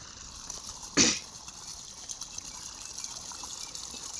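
Irrigation water flows across a field, a soft steady trickle and rush heard close throughout, with one brief louder splash near the start and no talking.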